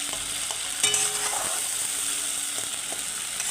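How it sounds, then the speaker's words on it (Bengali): Onion frying in oil in a pan with chironji seeds, ginger, garlic, green chili and cashew paste, stirred steadily: a constant bright sizzle with a few sharp scraping and clinking strokes of the spoon, close by and with no talking. "এগুলো দিয়ে একটু এবার কষবো।"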